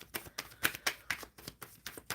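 Tarot cards shuffled by hand, a quick run of crisp riffling flutters and taps in an irregular rhythm, close and fairly quiet, with no talk over it.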